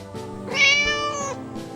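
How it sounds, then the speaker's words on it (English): A cat named Spade gives a short, clear, drawn-out meow up close, with quiet background sound around it. "No matter what I ask, Spade just answers me by short meows"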